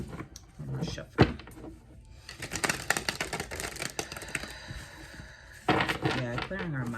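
Tarot cards are shuffled in quick riffling bursts with crisp snaps and taps, in a clustered, uneven rhythm, close by and moderately loud, between faint breaths and soft murmuring.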